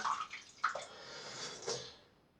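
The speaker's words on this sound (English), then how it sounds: "Now I'm just going to put a little water on my blade," Water trickles and splashes briefly onto a straight razor blade during a wet shave, a few short close bursts of dripping and running water heard alone.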